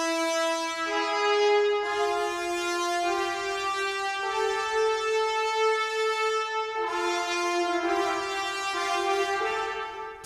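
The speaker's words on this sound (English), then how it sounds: "But the big horn legato, and I slightly panned them," Sustained sampled big horn legato chords held smoothly, one after another, slightly panned, with a rich harmonic tone and steady loudness, no talking.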